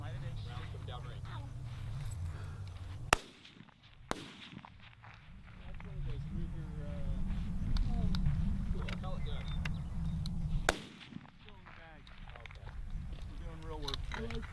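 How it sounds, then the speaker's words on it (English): Rifle shots ring out at an NRA long range 3x1000 match at Marine Corps Base Camp Pendleton: three sharp, separate reports over a low outdoor rumble. "Rounds coming down range."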